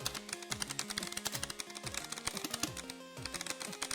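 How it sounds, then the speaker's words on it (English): Rapid typing on a computer keyboard, a steady stream of close, crisp clicks and clacks with a brief pause near the middle, heard alone with no voices. "it kills the clickety clackety sounds of my keyboard"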